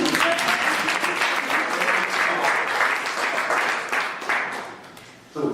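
Sustained audience applause fills a book launch at the Lit & Phil in Newcastle, dense and steady for about five seconds before it thins out and stops near the end.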